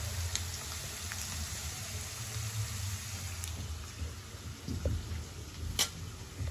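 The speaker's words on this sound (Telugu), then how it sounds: "చూసారుగా అల్లం ఫ్రై అయింది." Ginger frying in a pan for chutney gives a steady, close hiss and sizzle with faint crackles throughout and a few sharper pops near the end.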